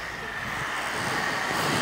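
A portable neck fan running at its highest speed gives a steady, close whooshing whir of broadband airflow noise that holds constant and grows slightly louder through the short stretch, with no talk over it.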